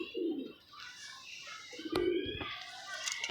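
Domestic hobby pigeons coo in a few low, throaty bursts, one near the start and another midway, close by over soft background noise.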